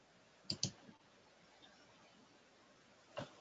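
Faint computer mouse clicks, a quick double click and then a single one a few seconds later, soft against a quiet room background.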